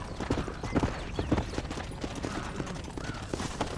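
Horse hooves clip-clopping in Red Dead Redemption as riders move a herd toward a ranch stable, with dense overlapping hoofbeats at a steady trot amid loud outdoor rumble.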